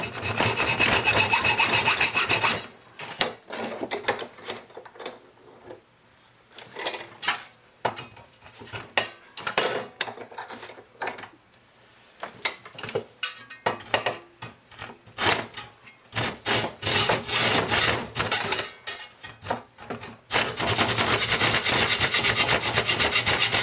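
Hacksaw cutting through a part for a MicroRax robot chassis, loud close rhythmic rasping strokes in bursts separated by short pauses, with continuous sawing at the start and end.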